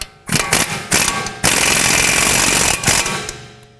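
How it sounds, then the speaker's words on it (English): A ratchet tightening strut mount nuts on a 2005-2010 Pontiac G6: loud, close bursts of rapid clicking, with a long continuous run in the middle and shorter pulls before and after, then tapering off. "I'm going to put on the two mounting nuts, and then we can bottom these out and torque them to 89 foot-pounds"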